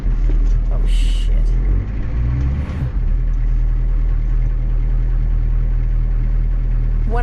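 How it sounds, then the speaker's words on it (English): A stuck bus engine revs hard and steadily in a low, continuous roar as its wheels spin in mud, with a brief higher burst partway through and no talk over it. "I'm like revving, going back and forth, but every time, you know, my wheels were spinning and I dug myself in deeper"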